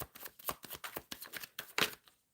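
Tarot cards being shuffled during a live reading, a rapid run of crisp papery riffles and flicks repeating in quick bursts, close and fairly loud, ending in a brief louder riffle before falling silent.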